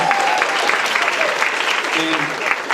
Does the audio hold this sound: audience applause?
yes